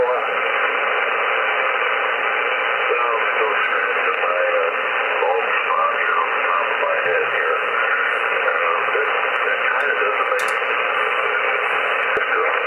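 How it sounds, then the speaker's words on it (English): Shortwave radio reception through an RA0SMS mini-whip antenna and an MFJ-1026 noise canceller gives a steady, loud band-limited hiss of static with faint voice-like modulation in it and a brief crackle near the end. "Ignore the static crashes."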